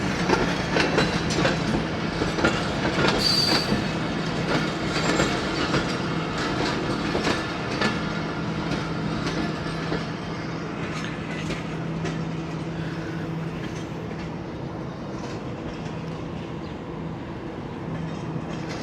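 Railway carriages at Lahore station roll past continuously with a rhythmic clickety-clack of wheels and occasional metallic squeals, fairly close and loud, gradually easing off over the stretch.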